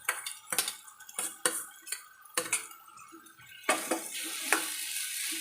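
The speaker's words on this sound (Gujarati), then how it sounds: "જો મઠ આપણે એડ કરી દીધા અને સારી રીતે હલાવી લેવાના છે" Moth beans with dry red chili chutney sizzle in a pan while a metal spoon stirs and scrapes, giving sharp irregular clinks over a faint frying hiss, close up and without talk.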